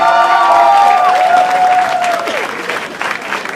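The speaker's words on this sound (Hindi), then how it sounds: "जोरदार ताली हो जाए।" Audience applauding and cheering at a lively Indian event, with dense clapping under a melodic music line that fades as the crowd noise thins toward the end.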